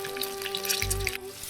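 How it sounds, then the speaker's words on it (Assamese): Eggs frying in a wok over a lowered gas flame make a light crackling sizzle with small popping drips, set against a faint steady hum, all over a short moment. "আৰু এতিয়া মই কণীকেইটা ভাজি ল'ম ইয়াতে।"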